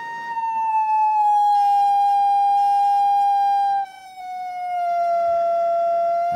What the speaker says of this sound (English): We'll stop the sound generator there.